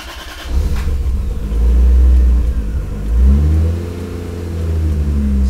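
A Lexus IS300 engine with a misfire idles roughly, then revs up in two swelling surges, loud and close, with a brief clatter near the start.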